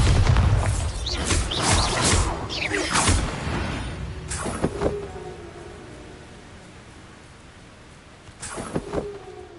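Booming blasts from the Bombarda explosion spell in a Harry Potter video game: a cluster of loud, crackling impacts early on, then a lone blast near the end over a noisy rumble.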